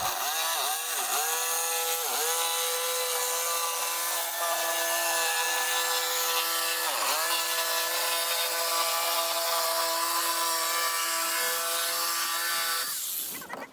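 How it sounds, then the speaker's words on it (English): A power saw cuts a curved line through wood for a budget kicker ramp, a steady whining motor tone running for over ten seconds with brief dips in pitch as the blade loads, close and alone, then stopping. "you're gonna probably want to use a jigsaw just because you're gonna be cutting a curved line"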